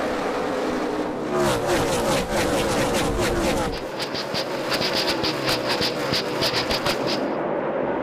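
NASCAR stock cars at the 2012 Subway Fresh Fit 500 roar past in a loud field, engines rising and falling through a rapid run of pass-bys that thins toward the end.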